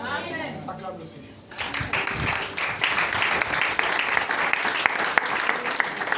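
A church congregation bursts into sustained, dense applause and cheering after a short stretch of preaching, the clapping loud and near and lasting to the end.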